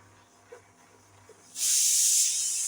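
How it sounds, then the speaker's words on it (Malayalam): A pressure cooker cooking beans sits near-silent with a few soft kitchen knocks, then lets out a sudden, loud, sustained steam hiss that keeps going for over a second until the end. "കുക്കറിൻ്റെ വിസിലാണ് കേട്ടോ കേൾക്കണേ"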